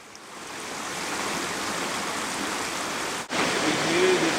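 Steady flowing water from a stream in a moss- and lichen-covered Tasmanian rainforest, a continuous broadband rush that holds evenly, with a brief dip near the end before resuming at a similar level.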